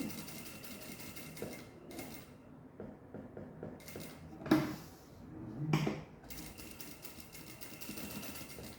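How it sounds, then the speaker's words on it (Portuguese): Sewing machine running a safety stitch along the edge of a fabric bag lined with non-woven material, a steady quiet mechanical whir with a few short pauses and soft knocks. "vou começar a passar uma costurinha de segurança"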